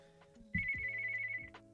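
A phone ringtone sounds for an incoming call, a steady electronic tone about a second long over a quiet background hum.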